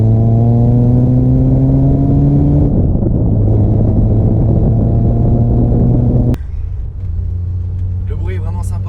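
Car engine, a Peugeot 205 GTI or VW Up GTI, revving and shifting through gears from inside the cabin, with loud rising tones broken by gear changes and people talking over the drone.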